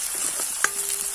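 Onions sizzle in hot oil with panch phoron in a pan, a brief close crackle with one sharp scrape of stirring.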